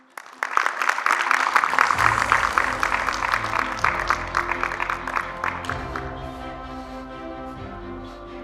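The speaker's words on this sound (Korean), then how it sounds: "뜨거운 박수로 맞이해 주시기 바랍니다." Audience applause at a Korean forum welcoming a presenter on port carbon neutrality, a dense burst of clapping that rises quickly, holds for several seconds, then thins and fades over background music.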